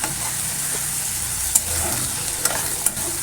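A steady, hissing sizzle of ginger garlic paste frying in hot oil, broken by a few sharp clicks of a utensil on the pan.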